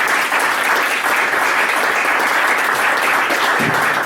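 Loud, dense audience applause at an amateur radio talk about an ISS contact, a continuous close wash of many hands clapping with no break.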